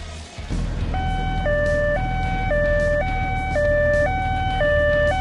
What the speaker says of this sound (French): Ça, c'est l'ambulance.